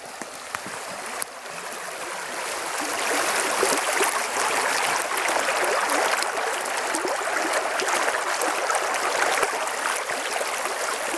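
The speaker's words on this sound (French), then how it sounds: "Le bruit aussi de la rivière?" A river flows steadily outdoors among natural surroundings, its broadband rushing and trickling building from softer to a louder, constant wash and continuing unbroken with no voices.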